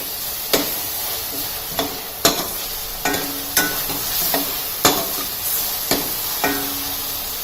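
Onion, ginger-garlic paste and green chilli sautéing in a pan for Mumbai-style pav bhaji, a spatula scraping and knocking the pan in repeated strokes about once a second over a steady close sizzle, with no talk.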